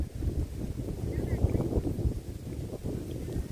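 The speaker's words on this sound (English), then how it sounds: "You'd probably hear the wind" Blustery outdoor wind buffets the microphone in a continuous low rumble, with gusts swelling and easing.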